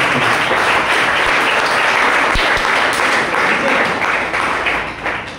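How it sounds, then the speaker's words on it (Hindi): Loud audience applause at a company training event, a dense sustained wave of clapping from a large crowd, near and continuous before easing off at the end. "मैं चाहूंगा एक बार दिल से हमारी कंपनी के लिए जोरदार तालियां।"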